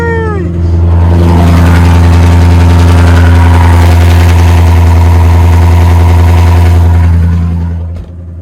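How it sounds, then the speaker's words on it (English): A 2020 Ford Mustang GT V8 with a drag pack fires up on a cold start, a loud deep rumble settling into a steady, heavy idle close to the microphone, running alone. "Cold start's gonna be hella loud. I'm gonna go ahead and get that cold start, let it warm up"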